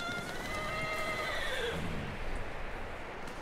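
A horse in Red Dead Redemption 2 lets out a loud whinny that trails off over about two seconds, with dull hoof and ambient noise continuing beneath.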